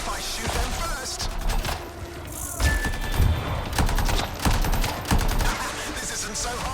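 Gunfire in the video game Anthem: dense, loud bursts of rapid shots and impacts throughout, with heavier thumping blasts mixed in and brief quieter gaps.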